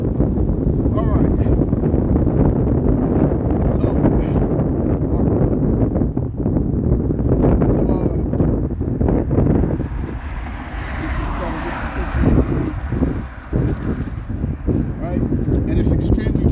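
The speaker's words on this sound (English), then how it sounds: "it's extremely windy right now" Strong wind buffets a microphone outdoors at a camp gathering, producing a loud, continuous low rumble with gusty surges that ease briefly midway before roaring back.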